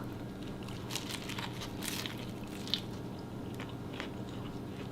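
Soft crunchy bites and chewing of fried fish up close, with a few sharper crackles standing out over a low background hum.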